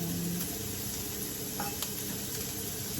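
Sliced white onion sizzles steadily in about a tablespoon of hot oil in a pan, the start of a pork curry, with a constant close frying hiss and a faint stir or clink partway through.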